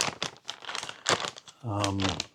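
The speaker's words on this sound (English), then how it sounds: "it comes in this interesting plastic bag" A plastic bag holding a DJI Avata 360 drone crinkles and rustles in close, busy bursts, with someone speaking over it and a brief voiced hum near the end.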